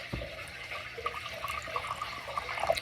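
Water pours into a ball python enclosure over damp substrate, a soft continuous splashing with small scattered drips and trickles, close and moderately quiet.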